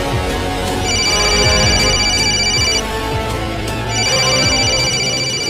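A telephone rings with an incoming call from the bank, two bursts of electronic trilling tones separated by a pause, heard over a steady dense background.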